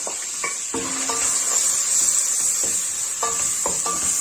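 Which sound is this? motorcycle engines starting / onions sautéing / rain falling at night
onions sautéing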